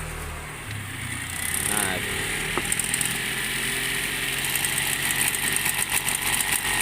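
A copper furnace stove switches on and runs with a steady roaring hum close by, with a brief click and a short spoken word near the start.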